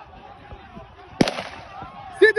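A single sharp gunshot-like crack rings out amid a crowd of students at a university in Bokkos, Plateau, Nigeria, followed by shouting voices and another loud burst near the end.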